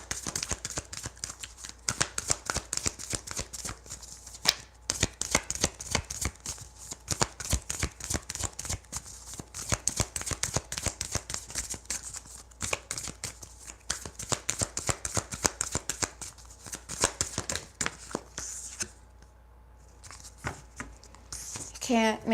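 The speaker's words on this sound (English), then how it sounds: "I don't know why I shuffled these again." A deck of tarot or oracle cards is shuffled by hand over and over, giving dense rapid riffling and flicking bursts up close, with a person talking throughout.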